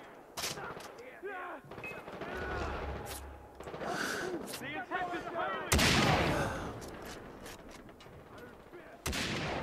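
Gunfire in the video game Far Cry 3, with single shots and short bursts cracking out repeatedly, close and loud, along with a sharp blast near the middle and a voice talking over much of it.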